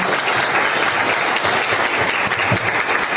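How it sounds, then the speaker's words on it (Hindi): A crowd at a business training event applauds steadily, dense clapping filling the space without a break. "नीना भाभी, आप ये लीड कर रहे थे, है ना, सबके लिए एक बार जोरदार तालियां हो जाए"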